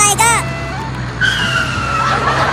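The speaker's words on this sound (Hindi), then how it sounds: "तू ये बुलडोजर कैसे चला रहा है?" A cartoon bulldozer is driven in a zigzag, giving engine noise under a run of whooshing, squealing skid tones, with a cartoon voice or sound effect at the start and a second swelling squeal midway.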